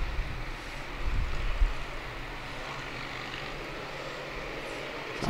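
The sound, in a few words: motorcycles rumbling along a highway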